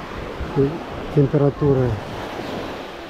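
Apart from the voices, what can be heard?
calm sea waves at a beach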